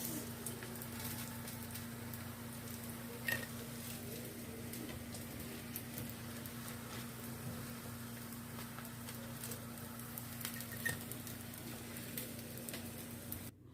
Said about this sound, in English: In the same way, we have to fry all the cutlets.